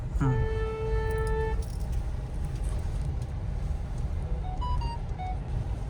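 A car horn blares in one steady, loud tone for over a second while driving through a narrow lane, then gives a few shorter, wavering toots, over a constant engine and road rumble.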